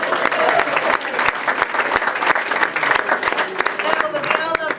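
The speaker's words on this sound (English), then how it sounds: "Let's give another round of applause." Loud, dense audience applause at a benefit event for the Union of Minority Neighborhoods, continuous clapping from a sizable crowd with occasional cheers and voices threaded through it.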